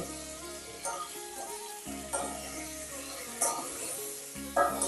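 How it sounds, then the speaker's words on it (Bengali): Cauliflower tossed in oil with Kashmiri chilli powder and spices, frying in a pan: a continuous close sizzle with a few louder bursts as the pieces are turned, steady throughout and without talk. "এবার সব কিছু ভালোভাবে তেলের সাথে মিশিয়ে ফুলকপিটা আমি ভেজে নেব"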